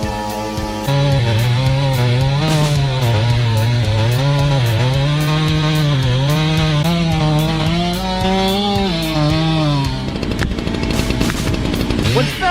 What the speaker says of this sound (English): The woodcutter is sawing wood under the canal.